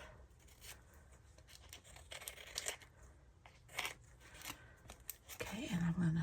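A paper tag trimmed with scissors, a few soft snipping and rustling cuts heard close under steady talking from a crafter.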